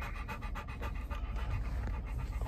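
A dog pants quickly and steadily inside a car, loud and close, with fast rhythmic breaths over a low cabin rumble and no speech.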